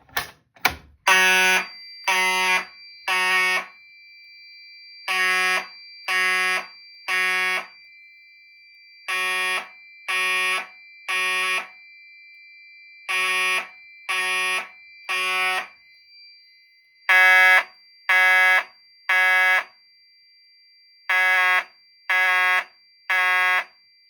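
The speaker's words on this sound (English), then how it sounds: "I'm going to go ahead and pull the pull station on the left." A Fire-Lite MS-5UD fire alarm panel system blares loudly after a pull station is pulled, in repeating groups of three harsh electronic honks separated by short pauses, continuing steadily with no voices.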